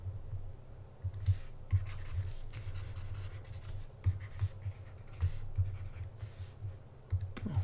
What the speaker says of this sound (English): let's draw a right triangle